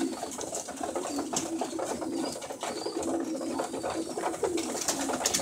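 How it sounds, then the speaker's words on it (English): Pigeons, including bronze-colored birds, coo steadily inside a loft, with soft overlapping calls repeating throughout at close range and no talking. "Birds looking good."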